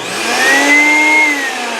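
A homemade shop vacuum serving as the dust collector on a modified sandblast cabinet switches on. It is a steady, loud motor whine with a rising tonal hum, close and alone, with no voices.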